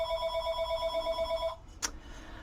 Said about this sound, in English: was really hoping the phone wouldn't ring while I was recording,